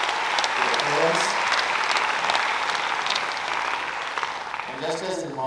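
Parents and guests at a medical college freshers' day break into loud, continuous applause from a large crowd, with a voice briefly speaking over the clapping near the end.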